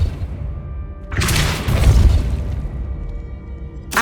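A Depulso spell in Hogwarts Legacy fires with a sudden loud booming blast that rumbles and decays over a couple of seconds, followed by a sharp second burst at the very end.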